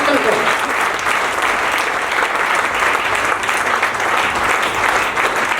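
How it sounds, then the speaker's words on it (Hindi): A crowd at an RCM success celebration event in Kaithal applauds loudly and steadily throughout, a dense wash of many hands clapping close by with no break. "एक बार जोरदार तालियां बजाइए मनजीत सिंह भाटिया साहब"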